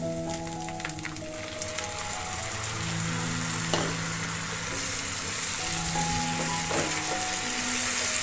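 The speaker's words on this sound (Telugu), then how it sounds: "నూనె పైకి తేరే వరకు బాగా వేయించుకోవాలి, ఉడికించుకోవాలి." Tomato puree sizzles and bubbles in hot oil with ginger-garlic paste and curry leaves for a mushroom chana curry, a close, continuous frying hiss with occasional stirring scrapes and no voices.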